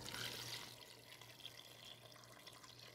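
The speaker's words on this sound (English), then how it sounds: "And now what I'm going to do is just add water to this." Cold water pours into a stock pot over poultry bones, a quiet splashing flow that is loudest at the start and then settles into a softer, steady trickle nearby.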